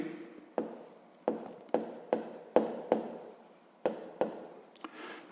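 A pen scratches on paper as a sixth-grade maths exercise on powers is written out by hand, with about nine short, sharp strokes, each fading quickly, close and alone with no talk.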